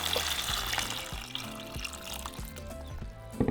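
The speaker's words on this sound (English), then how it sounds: "So now we're just going to cover them with water." Water pouring into a pot over dried chile de árbol pods and four roma tomatoes, a steady close splashing stream with gurgling, fairly quiet and without talk.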